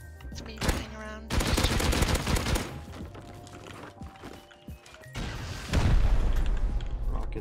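Rocket explosions tear through a base raid in the Rust video game, with heavy booming blasts in several loud bursts and crashing debris between them, close and dense with no clear talk.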